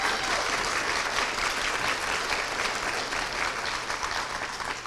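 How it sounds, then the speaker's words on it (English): Sustained audience applause at a scholars celebration for early college graduates, steady dense clapping from a crowd filling the whole stretch without pause. "Let's give them a round of applause."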